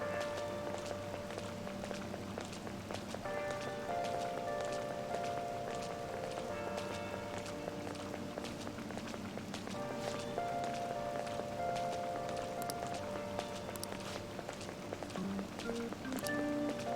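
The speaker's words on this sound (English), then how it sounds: "I mean, it is raining" Soft, steady rain in the video game Persona 5 patters continuously at low volume, with faint background tones and no talking.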